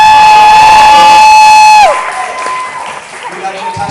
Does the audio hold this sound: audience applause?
yes